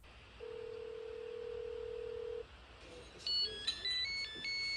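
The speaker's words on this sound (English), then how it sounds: "2002 ass ringtone goes off" An old early-2000s style mobile phone ringtone goes off, a steady electronic tone followed by a quick melody of beeping notes, fairly clear over a quiet room.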